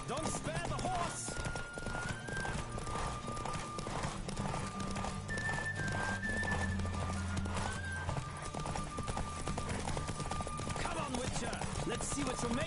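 Steady clip-clop of galloping hooves in The Witcher 3: Wild Hunt with an occasional whinny, layered over continuous game music and ambient wind.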